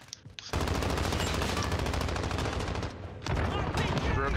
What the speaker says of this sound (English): I'm just getting shot from a window